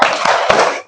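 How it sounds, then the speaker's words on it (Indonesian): A classroom of students doing a rhythmic spirit clap, a loud, close burst of a few quick claps ending within a second. "Tepuk semangat."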